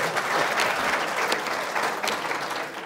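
An audience at a Pakistani political rally claps in a steady burst of applause, dense hand claps filling the short stretch at moderate loudness.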